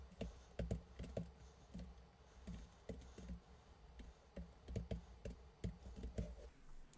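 Typing on a computer keyboard while entering a Windows 10 Pro product key: irregular, fairly quiet key clicks in quick runs and short pauses, close by, with no one speaking.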